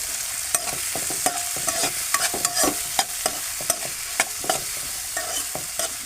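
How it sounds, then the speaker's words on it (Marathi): Onion and tomato sauté in a pan for a mushroom curry while a spatula stirs them, giving a steady soft sizzle broken by frequent sharp scraping clicks against the pan. The sound is close and continuous, with no talking. "जरासं परतून घेतो आहे"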